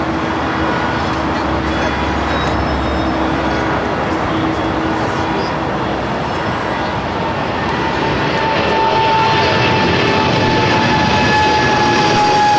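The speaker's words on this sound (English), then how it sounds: "we do have this 777 freighter now rolling down to 25 at left" A Boeing 777 freighter rolls down the runway at LAX, giving a sustained, loud jet engine roar with a steady whine that grows slightly louder toward the end. A voice may speak faintly under the noise.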